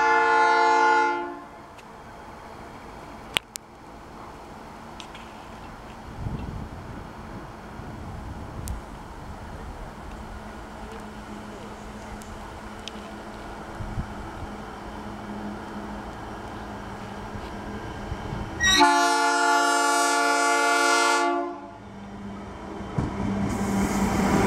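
Diesel locomotives with CA22/24 in the lead haul a train past Linden Station; loud horn blasts at the start and again near the end frame a long, steady rumble of passing wagons.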